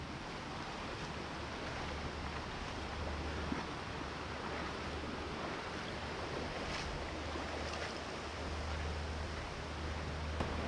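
Strong flood water rushes at full pressure through a stream during heavy rain, a dense, continuous roar that stays loud and unbroken throughout with no voices.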